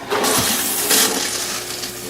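An RV toilet is flushed during winterizing, producing a steady close rush of water that holds for a couple of seconds.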